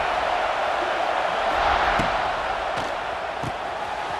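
Stadium crowd at a college football game between USC and Miami, a loud, sustained roar of massed voices with a few sharp thuds, heard throughout without pause.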